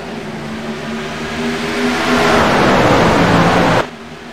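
Race cars roar off together at the green flag on a road course, a loud, dense engine wash building in intensity and holding strong before cutting off abruptly near the end.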